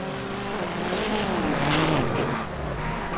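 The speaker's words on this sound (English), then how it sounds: "Lester has to make evasive action from Mertz's drift in car number 81" Rallycross race cars tear around a track during a race, their engines snarling loud and close with pitch sweeping up and down as they accelerate and drift through a corner, a steady roar with no talk over it.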